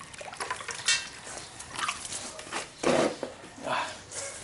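An old toothbrush with water scrubbing the trunk of a water jasmine bonsai, irregular close wet brushing strokes and splashy scrubbing bursts, moderately loud with no talking.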